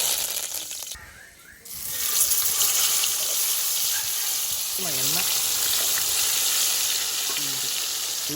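Oil poured into a hot pan for frying fish coated in green masala, giving a steady loud sizzle that continues throughout after a brief lull, with a faint voice briefly heard over it.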